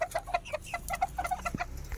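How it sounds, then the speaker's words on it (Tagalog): Old English Game bantam chickens cluck in a quick irregular series of short sharp calls, close and moderately loud, with a soft low thump near the end and no talking. "Ito mga OG natin, OEG, All English Bantam"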